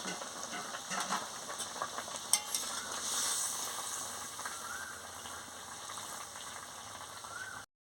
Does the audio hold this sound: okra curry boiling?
yes